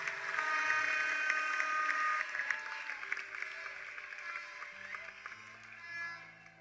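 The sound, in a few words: congregation clapping hands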